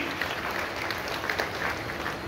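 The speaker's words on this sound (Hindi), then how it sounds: "ताली बजाइए, सम्मान कीजिए।" An audience claps at a spiritual talk, a dense and steady applause from many hands that fills the whole stretch evenly with no pauses.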